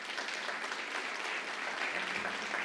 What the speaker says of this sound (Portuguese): Eu gostaria que você desse uma salva de palmas.